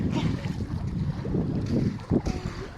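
A small bangka boat rumbles along on the water, its low engine drone mixed with gusty wind buffeting the microphone.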